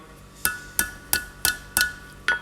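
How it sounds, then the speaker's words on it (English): A blacksmith bends a steel bow shackle over the anvil's bick, striking six evenly spaced, close, ringing hammer blows with a bright metallic ping on each hit. "take that over to the bick. And I just want to bend up the first quarter or so, making sure I get right up to the eye"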